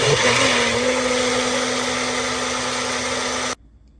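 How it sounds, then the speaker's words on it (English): A blender whirs loudly at a steady high speed for a few seconds, blending butter chicken sauce, then cuts off abruptly into quiet. "So I'm going to blend the sauce."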